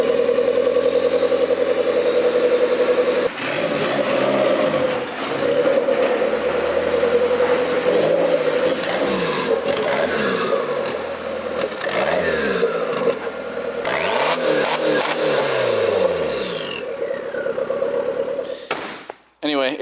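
A Honda B-series engine fitted with a cast iron top mount manifold runs steadily at idle with a loud, continuous droning hum, with blips of revving partway through and a brief cut at the very end.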